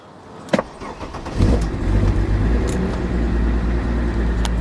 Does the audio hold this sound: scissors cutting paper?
no